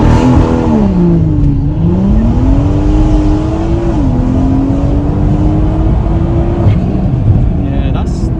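A 500bhp rear-wheel-drive BMW M140i launches hard with brief wheelspin, its loud engine note climbing and dipping through gears up close, with voices audible around it.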